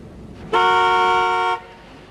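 A single loud car horn blares for about a second in a gridlocked Midtown Manhattan traffic jam, a steady close honk rising sharply out of low street rumble and cutting off cleanly.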